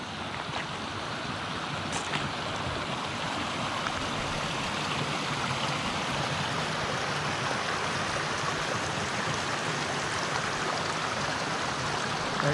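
Steady broadband rush of creek water flowing along a mountain trail in Idaho's Stanley Basin, continuous and fairly close, with no talking.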